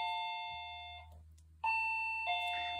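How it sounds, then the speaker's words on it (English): A doorbell chimes, a clear ringing tone that fades, followed after a short pause by another two-note ding-dong, loud and close in a quiet room. "But I'm going to answer the doorbell first."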